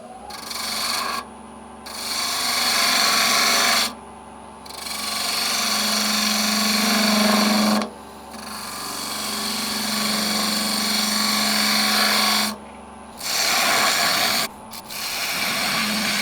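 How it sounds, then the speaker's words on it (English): A spindle gouge shaves wood on a turning lathe while a lidded box is shaped, giving a steady rasping scrape in long passes broken by short pauses, over a low constant machine hum. "So I'm going to use the spindle gouge just to create a curve on there"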